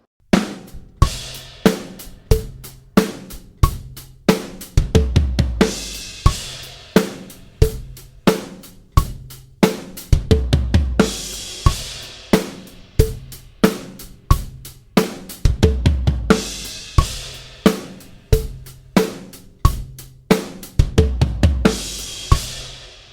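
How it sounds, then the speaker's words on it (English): A drum kit plays a steady eighth-note rock groove at 90 BPM, with crisp hi-hat, punchy kick and snare backbeats, and periodic crash accents. "I want you to play a basic 8th note rock groove."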